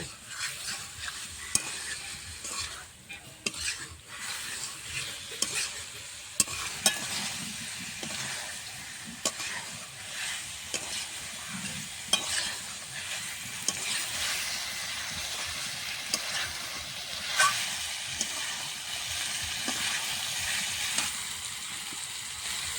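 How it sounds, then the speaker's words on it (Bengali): Fried cauliflower pieces returned to a pan for a vegetarian cauliflower dish, frying with a continuous hissing sizzle and repeated spatula scrapes and knocks throughout. "এখন আমি ভেজে রাখা ফুলকপিগুলো দিয়ে দেবো দিয়ে আবারও কিছুক্ষণ ভেজে নেব"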